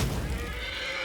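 Horses neigh and whinny in a Might and Magic strategy game, a sustained, fairly loud whinny with some background game sound, no talk over it.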